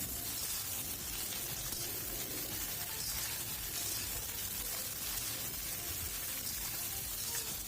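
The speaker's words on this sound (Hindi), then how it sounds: "एबे भल भाव याकू फ्राई कर दबा" Flat beans and potatoes frying in a pan give off a steady, even sizzle that holds unbroken throughout, close and moderately loud, with no talking.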